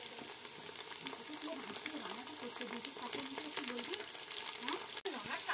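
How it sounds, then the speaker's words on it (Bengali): Chopped onions fry in hot oil in a pan, giving a dense, steady sizzle that runs evenly through the whole stretch with a faint tonal murmur underneath. "এরপর তেল গরম করে নিয়েছি, এবার তেলের মধ্যে দিয়ে দেবো পেঁয়াজ কুচি। এবার পেঁয়াজগুলোকে লাল করে ভেজে নেব।"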